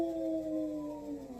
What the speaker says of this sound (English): you hear the wolves howling in the background